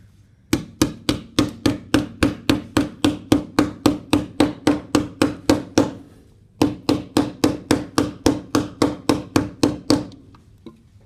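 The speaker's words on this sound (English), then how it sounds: "This is where you're going to be doing a lot of hammering" Steady rhythmic hammer blows, around two dozen evenly spaced strikes, a brief pause, then another run of the same firm, close knocks.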